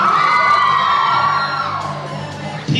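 A crowd of fans screams and whoops together in one sustained, loud burst, holding steady before tapering slightly, with a sharp new shout at the end.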